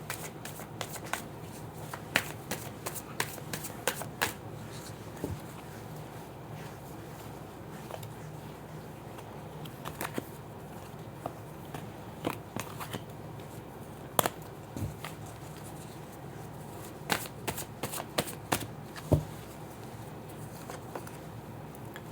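Tarot cards shuffled by hand in a quiet room, a long run of soft papery riffles and sharp snaps repeating at uneven intervals, close and fairly faint, with no voices.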